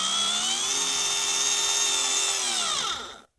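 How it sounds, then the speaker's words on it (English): Small 6-volt cordless drill running into laminate flooring in a minivan camper, a steady high whine held for about three seconds before slowing and cutting off, close and alone. "I'm going to try to drill this in, and hopefully it won't crack the laminate."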